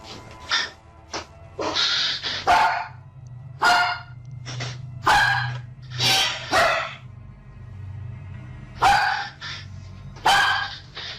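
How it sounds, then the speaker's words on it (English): A dog barks repeatedly in uneven bursts of single and double barks, loud and close, over a steady low hum with no talking. "Because that's a dog."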